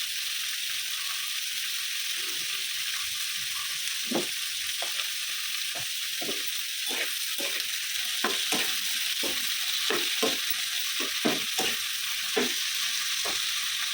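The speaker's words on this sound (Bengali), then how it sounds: "পেঁয়াজটা ততক্ষণ একটু লাল করে ভাজা হোক" Salted onions frying in a pan for a Bengali egg and poppy-seed dish give a continuous bright sizzle, broken by frequent scraping and tapping strokes of a spatula that grow busier toward the end, heard close with no talking.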